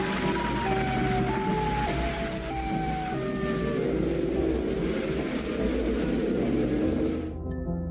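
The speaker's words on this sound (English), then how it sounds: "Those are sirens, sirens for a head." Wailing sirens from the creature Siren Head drone loud and continuous through steady rain-like noise, falling and rising tones layered for most of the stretch before cutting off abruptly near the end.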